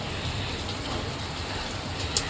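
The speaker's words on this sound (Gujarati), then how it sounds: "અહીંયા તો વરસાદે ધબધબાટી બોલાઈ કાઢી છે" Heavy rain pouring down outdoors, a dense, even hiss of falling water at moderate level with a faint low rumble beneath and one small knock near the end.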